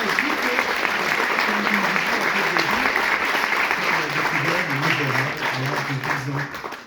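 Warm, steady applause from a live audience greeting a finalist singer at a singing audition, continuous and full throughout, with faint voices mixed into the clapping.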